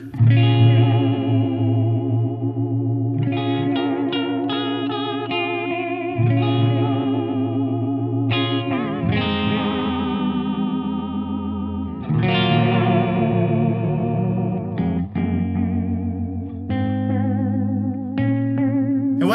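Electric guitar through a Keeley Parallax Spatial Generator pedal on a deep, warbly modulation setting, a run of chords and phrases wobbling noticeably in pitch, played alone and fairly loud.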